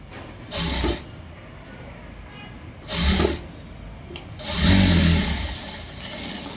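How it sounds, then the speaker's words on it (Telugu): A sewing machine stitches a blouse sleeve in three short runs of motor whirring, the last one longer, with quiet pauses between them. "ఇలా స్టిచ్ వేసుకుంటూ వచ్చేసేయాలి"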